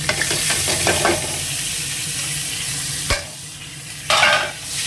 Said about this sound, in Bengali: পেঁয়াজটা একটু আগে ভেজে নিই, কাঁচা গন্ধটা তাহলে চলে যাবে।